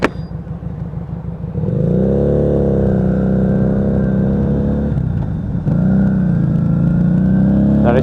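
A Lexmoto Vendetta motorcycle engine drones steadily with a deep, burbling exhaust note, rising slightly in pitch as it pulls along, loud and close throughout.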